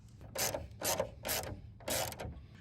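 Screws are driven into a plastic hood vent grille on a Mercedes in four short, close, rasping bursts, each a grinding turn of the screw, with brief pauses between.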